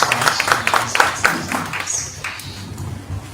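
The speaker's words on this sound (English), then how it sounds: "a big round of applause to them as they take their seats" Scattered clapping from a dinner audience at an SME event at the Amanda Resort in Kakamega, a burst of sharp claps in the first second and a half that thins out into quiet room murmur.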